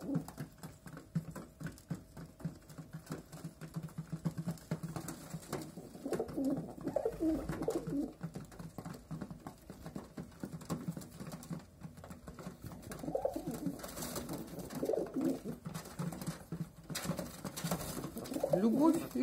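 Pigeons feeding close by give soft, rolling coos over busy pecking and shuffling, with a few louder swells of cooing.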